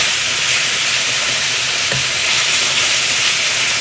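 Strips of pepper steak frying in a black cast iron skillet on a home stove, a loud, dense and constant sizzle heard close, with a brief utensil scrape partway through and no speech.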